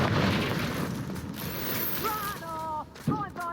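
A Confringo fire spell bursts in Hogwarts Legacy, a soft blast and rumble followed by whooshing magical effects and short chirping tones, fairly quiet overall.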